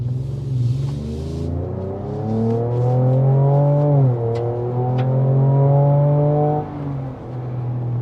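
A Ford Ranger Raptor pickup accelerating from inside the cabin, its augmented exhaust note rising in a smooth, droning pitch sweep, dipping briefly at a gear change, then climbing again before easing off.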